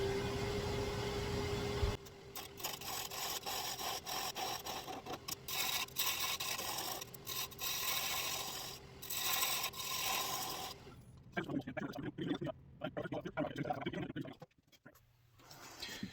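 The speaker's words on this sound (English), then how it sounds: "I'll cut off what I can with my tool, and then I'll hit the rest of it with the grinder, with the sander" Black walnut bowl on a lathe having its leftover tenon cut away with a turning tool and then sanded off, giving a steady grinding, scraping mechanical rasp with short pauses and a rougher, choppier stretch near the end.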